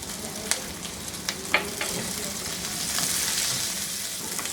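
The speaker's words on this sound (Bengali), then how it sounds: "রসুনটা একটু ভাজা ভাজা হয়ে যাবে পেঁয়াজটা নরম হইতে হইতে" Onion and large pieces of garlic fry in a pan for vegetable chow mein, giving a steady close sizzle broken by a few sharp pops and clicks.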